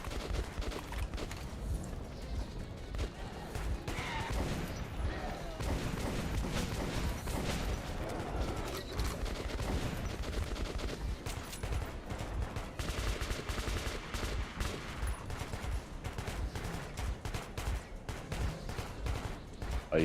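Dense gunfire and chaotic combat noise from the video game Metro 2033 Redux, with shotgun blasts and continuous rattling shots and impacts over a steady game soundscape that runs throughout.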